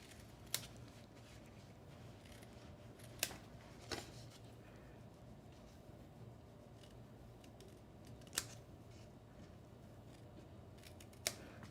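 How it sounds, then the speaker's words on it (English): Scissors make quiet, sharp snips while miter cutting paper tabs, five or so isolated clicks spaced irregularly over a faint background, with no talk. "And then I'm just gonna come in and miter cut those."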